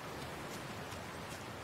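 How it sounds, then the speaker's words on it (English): Steady rain falls in The Last of Us Part II, a soft even hiss of drops that holds without a break and carries no voices. "And it's fitting. Like the rain."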